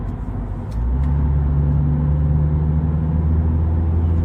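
A MINI JCW convertible's engine in sport mode drones with a deep, steady rumble inside the cabin, stepping up to a firmer, louder hum after a moment and holding it evenly.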